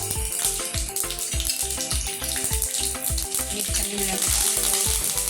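Cumin and whole spices sizzling in hot oil while tempering panchmel dal, a steady crackling fry with stirring, and a voice speaking briefly over it.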